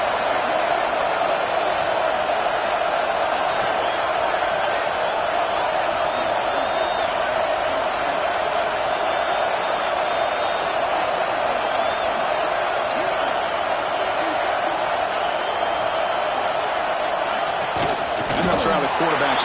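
A steady, loud roar from a packed football stadium crowd at a Texas at Michigan game, as fans make noise for a red zone defensive stand. The wash of sound holds unbroken, with a few brief thumps near the end.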